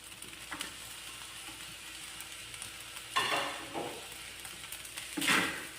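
Carrots, corn and long beans tossed with rice in a pan for fried rice, giving quiet scraping stirs and soft clatter over a faint steady sizzle, with two louder stirring bursts near the middle and end.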